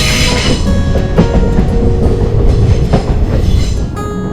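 A Punalur–Tenkasi passenger train rolls steadily along the rails through the Western Ghats, a loud, continuous rumble with rhythmic clatter from the wheels and no talking.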